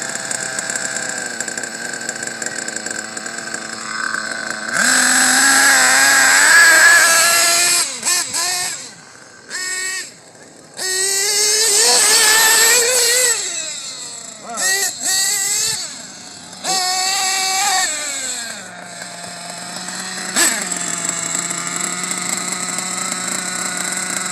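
Nitro-fuelled RC engine idling with a buzzy, harmonic-rich drone, rising into sharp revs several times before settling back to a steady idle, close and loud throughout.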